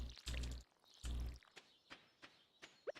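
Water poured onto crops in the farming game Stardew Valley: two short splashing pours come first, then scattered soft drips and small clicks, with no talking.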